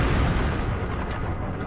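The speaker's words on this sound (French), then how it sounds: "une explosion retentit au-dessus de la lointaine forêt sibérienne" An explosion over the remote Siberian forest by the Tunguska river: a dense, sustained low roar and rumble that fills the whole stretch evenly, loud and without a distinct onset.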